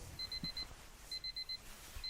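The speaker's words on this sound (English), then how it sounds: "Turn the alarm off, please." An alarm clock beeps in quick, evenly spaced bursts of high electronic tones, repeating in groups, fairly faint against a quiet background.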